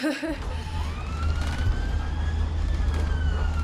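An ambulance siren wails steadily with rising and falling tones over a loud road rumble as the vehicle rushes to a GP surgery in Hinckley, heard up close for several seconds.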